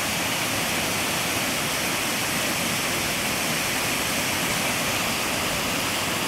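Paulina Falls on Paulina Creek roars steadily, a dense, even rush of water that stays loud and unbroken throughout.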